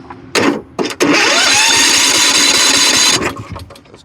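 A Kohler Courage engine on a Husqvarna riding lawn mower cranks with two short starter bursts, then catches and roars steadily for about two seconds before dying down, loud and close with no talking.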